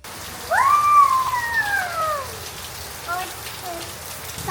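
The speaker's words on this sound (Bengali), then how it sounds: "অনেকদিন পর মানে চমৎকার একটা বৃষ্টি" Steady rain falls over a rooftop garden as a soft, even hiss, and a drawn-out, wavering animal cry rises above it near the start, with a shorter one later.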